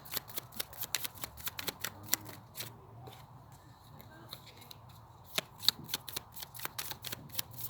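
Oracle cards are shuffled close up in quick, soft riffling bursts, with a short quieter pause midway before the brisk flicking resumes.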